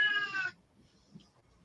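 A house cat gives a single drawn-out meow, loud and close at the start, then fades into quiet room tone with faint small noises.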